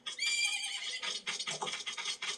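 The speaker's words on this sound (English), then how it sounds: "That's my horse!" Epona the horse whinnies in the video game Zelda: Majora's Mask, a loud, close neigh that trails off into snorting, clip-clop-like rustles with no talking over it.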